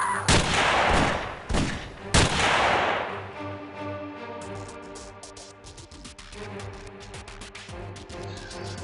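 Gunfire from an unseen enemy rings out in OpenXcom: X-Piratez: several loud, booming shots in quick succession in the first few seconds, then a quieter stretch of ambient game sounds.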